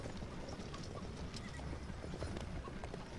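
A horse in the Lego Dimensions video game, hooves clip-clopping in a quick steady rhythm with a short neigh, fairly quiet over light background noise.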